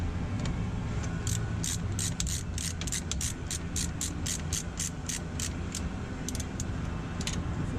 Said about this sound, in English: Tighten it all the way up, we'll get the top bolt in.